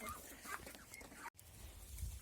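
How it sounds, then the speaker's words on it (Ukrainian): Chickens cluck and murmur steadily at close range on a Ukrainian homestead, several birds overlapping in a soft, continuous chatter with a brief gap partway through. "А тут наші кури всі"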